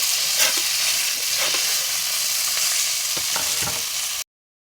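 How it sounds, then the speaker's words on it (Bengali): Fish sizzles in oil on an iron tawa over a low flame, a steady close crackling hiss with brief spatters and stirring scrapes. "মাছ ভাজতে আমি লোহার তাওয়াতে দিছি"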